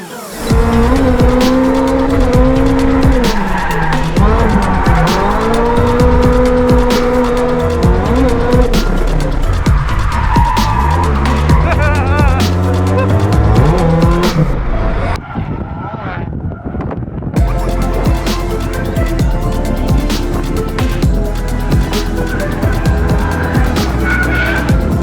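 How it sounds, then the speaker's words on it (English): A beat-up 1986 Toyota Corolla AE86 drifting on a fast Formula Drift track, engine revving loud and sustained with tires squealing through long slides, harsh wind buffeting on the microphone, and a brief dip before the engine roars on. "I get to drift this track with my beat-up old Corolla"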